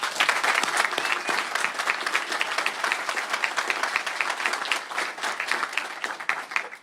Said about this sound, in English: how about a big hand of applause